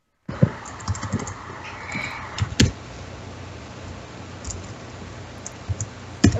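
Sparse computer keyboard clicks and taps scattered over a steady low background hum during a game of ShellShock Live, with a couple of sharper key strikes standing out.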